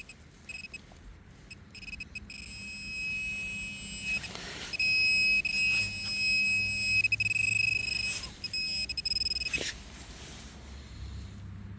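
Thin, high electronic tones from a metal detector beep and warble over faint outdoor background noise, with a few louder bursts in the middle.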